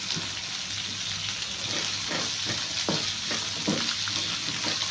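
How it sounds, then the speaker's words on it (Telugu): Ginger, green chillies and garlic frying gently in a pan, a continuous close hiss with a few soft stirring clicks and no talking. "ఇవన్నీ మనకి కొంచెం సాఫ్ట్గా అయితే చాలండి మరీ ఎక్కువ ఫ్రై అవ్వాల్సిన అవసరం లేదు సాఫ్ట్గా ఫ్రై అయినాయంటే సరిపోతుంది"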